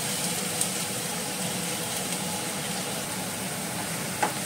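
Chopped onion frying in coconut oil gives a steady, even broadband sizzle throughout, moderately loud and close, with a couple of faint pops and no voices over it.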